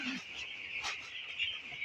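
Peeping of fourteen-day-old broiler chicks, a flock of about 1,320 in a poultry shed, forms a continuous high chorus of overlapping chirps at close range, with no talk.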